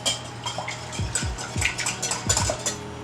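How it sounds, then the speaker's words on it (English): A spoon scrapes and clinks against a bowl while mixing chocolate cake batter ingredients, giving a run of quick, close metallic taps and knocks with no voices. "now we're gonna mix that up"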